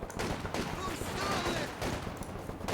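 A sniper opens fire on a grenadier squad during a 4v4 Company of Heroes 2 match, with a dense, continuous rattle of game gunfire and battle noise that stays loud throughout.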